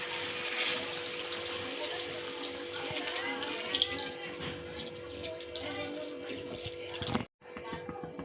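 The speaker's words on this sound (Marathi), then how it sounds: "सिंपल्याचं पाणी होतं उरलेलं ते घेऊया थोडंसं टाकूया त्याच्यात" Leftover clam cooking water, salty from the clams, is poured into a clam curry, making a continuous close trickling splash that runs for about seven seconds before stopping abruptly.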